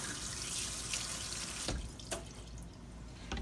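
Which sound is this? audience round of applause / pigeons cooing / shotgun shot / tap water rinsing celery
tap water rinsing celery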